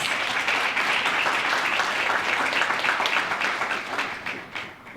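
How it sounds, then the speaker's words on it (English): An audience at an awards ceremony applauds in a dense, steady wave of clapping that fills the room, holding strong before tapering off near the end. "And let's give them a round of applause."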